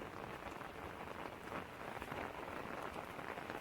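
Steady rain falls on a forest footpath in the Konkan countryside, a dense, continuous patter of drops hitting leaves and ground, loud and close with no break and no voices.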